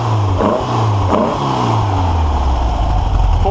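A Volkswagen engine running after its carburetor was cleaned, loud and close, revving up and settling back with a rough, throaty tone that holds steady throughout.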